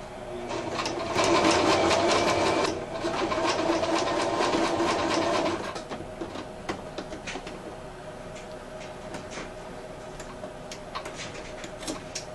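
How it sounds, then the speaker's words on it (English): A sewing machine runs fast and loud, stitching a straight seam on Thanksgiving placemat fabric, then slows to softer, intermittent ticking as it finishes. "sew all the way down this straight line"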